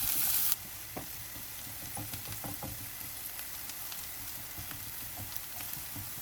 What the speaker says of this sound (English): Heat up a pan with some oil. Once it's hot enough, add the green onions and reduce the heat to low.